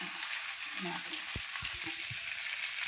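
Fish frying in a pan with leftover masala, a constant hissing sizzle with a few soft knocks and scrapes from stirring or a spatula underneath.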